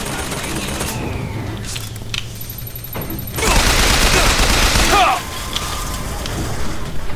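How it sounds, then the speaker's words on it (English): Machine gun fire in Bioshock Infinite, a loud sustained burst of rapid gunfire rattling for a couple of seconds amid other combat noises and short shots. "And maybe switching to the machine gun."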